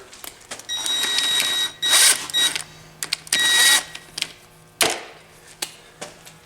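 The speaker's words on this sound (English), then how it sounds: "And then we got the old impact driver." Impact driver loosening the connecting rod bolts on a 5.7 HEMI engine, several short bursts of rapid hammering separated by brief pauses, close and loud with no talk.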